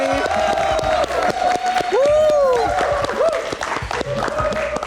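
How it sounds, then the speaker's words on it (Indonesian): A studio audience at a live Metro TV talk show claps in scattered, uneven bursts, while a voice and a sliding tonal sound ring out over the clapping and the crowd murmurs. "Mana tepuk tangan sekali lagi?"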